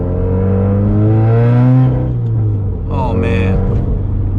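A Subaru WRX engine and exhaust heard from inside the cabin, a deep steady drone that swells as revs climb and then eases off, with a man's brief exclamation and talk over it.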